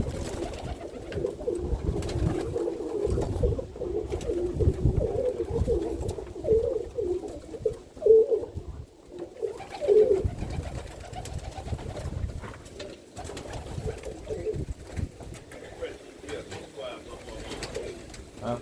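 Roller pigeons in a loft cooing in soft, low, repeated throaty bursts, near and continuous, with someone talking intermittently over them.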